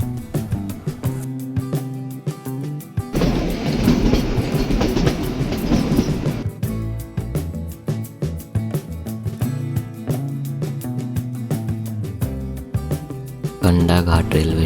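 The Shimla toy train runs along its narrow-gauge railway with steady clickety-clack of wheels and carriage rumble throughout, loud and close, with a rougher noisy stretch partway through.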